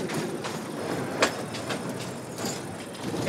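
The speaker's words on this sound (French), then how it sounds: "C'est comme ça qu'on freine le chariot." Rail cart rolling along tracks in Mexico, heard as a steady rumbling roll with a sharp metallic clack near the middle and faint rattles, fairly close and with no talk.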